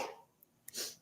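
A person sneezes during a relaxed spiritual tea-time chat, one short burst followed by a fuller, louder sneeze near the end, both close-up in a quiet room.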